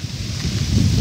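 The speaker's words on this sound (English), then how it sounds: "It's a really intense and foreboding wind for entering the woods" Strong wind at the edge of the woods, a brief low rumbling gust buffeting the microphone, steady and close with no talk.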